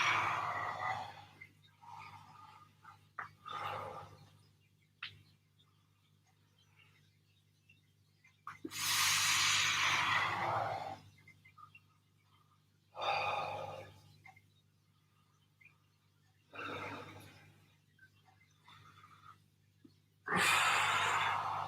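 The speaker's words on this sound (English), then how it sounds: "Good, big deep breaths." Slow, deep breathing during a home lower-body workout, with long loud inhales and exhales spaced several seconds apart and near silence between them.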